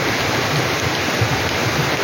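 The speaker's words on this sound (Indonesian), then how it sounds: "semoga hujan ini membawakan berkah dan rahmat buat kita semua yang dinanti-nanti" Heavy rain pours down steadily in Ciracas, East Jakarta, a dense, continuous broadband hiss and rush of water with no voices, loud and even throughout.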